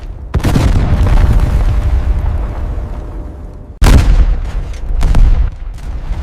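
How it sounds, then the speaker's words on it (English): Heavy artillery bombardment explosions evoking the Soviet shelling of Berlin: two loud, deep booms with long rumbling tails, the second sharper and followed by further blasts. "Outside, Berlin was collapsing under endless Soviet bombardment."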